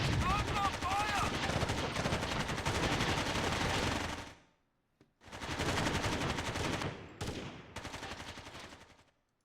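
Rapid sustained gunfire in a Rainbow Six video game, loud dense bursts that cut off abruptly, then resume after a short gap with several more volleys, voices shouting underneath.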